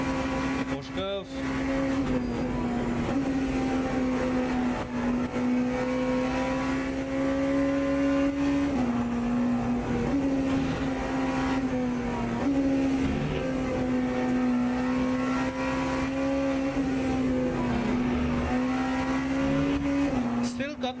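A Porsche 963 race car's engine drones loud and close through corners, its pitch dipping and rising as the throttle is lifted and reapplied, with a voice faintly under it.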